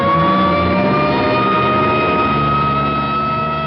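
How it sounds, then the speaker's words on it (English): An ambulance drives out in an old city street scene, with a loud, continuous engine rumble and a steady droning hum that hold without a break. "here comes an ambulance out."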